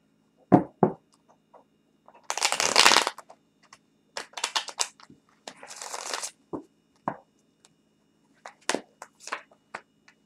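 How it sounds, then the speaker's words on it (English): Tarot cards riffle-shuffled by hand in a quiet room, one long dense burst of flicking card edges plus several shorter rustling bursts, soft taps and card slaps spread across the stretch. "Let me get another good shuffle on this"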